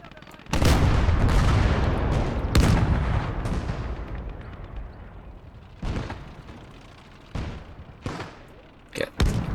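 Enemy fire in the World War II game Gates of Hell: Ostfront lands as a string of heavy, booming gunshot and artillery blasts, loud and close, with rumbling decay between them and a sharp crack near the end.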